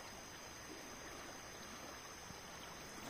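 A full river runs between Viçosa and Martins after rain, giving a steady, faint rushing of flowing water with no other sounds on top.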